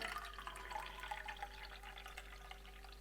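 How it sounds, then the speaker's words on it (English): Filtered water pours from a countertop water filter into a pot for making syrup, a steady close trickling and splashing stream running throughout over a faint electrical hum. "And then I'm going to put in 5 cups of filtered water."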